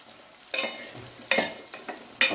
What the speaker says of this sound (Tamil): இங்கே வெங்காயம் எல்லாம் வதங்கிடுச்சு